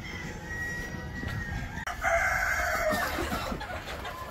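Free-range desi chickens in a poultry shed, with a rooster crowing loudly and close in one drawn-out call amid clucking and shuffling from the flock.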